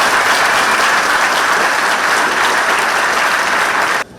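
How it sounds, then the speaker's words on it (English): A large audience at a local community event in Chitwan, Nepal bursts into loud, sustained applause, a dense wash of clapping that holds steady for about four seconds before cutting off abruptly. "Can we just give them another round of applause"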